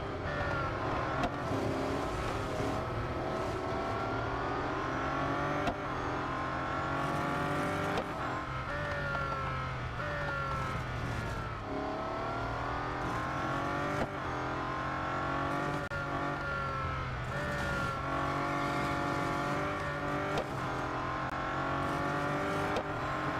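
Race cars in the mobile racing game Real Racing 3, engines droning and revving steadily as they battle through traffic, with rising and falling pitch on gear changes and occasional tire squeal, continuous and loud.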